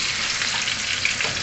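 Onions sizzle in ready-heated cooking oil for a chicken curry with coconut milk, a close, steady, even hiss of frying with no voices over it.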